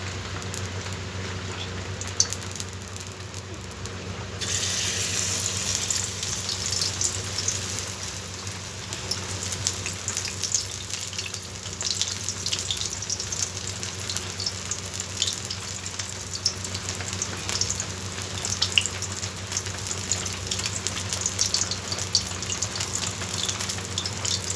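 Constant bubbling sizzle of fish-oil fritters in gram flour batter frying in a kadai, close and steady throughout with no talking.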